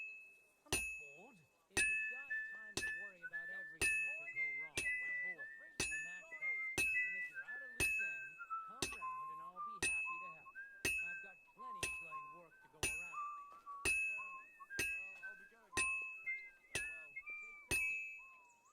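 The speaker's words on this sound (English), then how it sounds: "You always want to smack it and get as many sparks and a good, I guess, bell sound, or that ting that you hear" A blacksmith's hammer rings sharply on hot metal at an anvil in the medieval game Kingdom Come: Deliverance 2, striking about once a second in a steady series of bright, bell-like tings that decay between blows, with low murmuring beneath.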